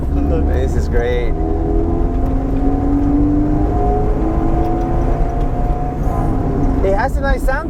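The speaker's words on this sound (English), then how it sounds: "it's pretty much a regular non-brand aftermarket exhaust" A 1990 Honda CRX Si engine with a generic aftermarket exhaust hums at a steady idle with a deep, throaty exhaust tone, then revs briefly near the end.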